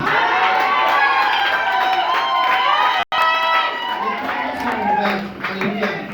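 A church congregation at a prophetic worship service cheers and acclaims loudly, with overlapping shouts and some clapping. Voices are raised and near, and the cheering stays continuous apart from one brief cut.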